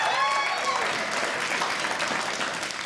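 Married couples in a comedy club audience clap and cheer in a dense, steady burst of applause that holds across the whole moment, with faint whoops mixed in.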